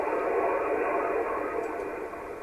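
Steady hiss and rushing static from an HF radio receiver, loud and even, fading slightly toward the end.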